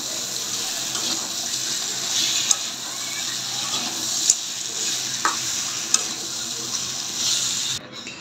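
Pieces of a large country rooster are stir-fried in a pan, giving a steady loud sizzle with scraping stirs and a few sharp clinks, and no voices.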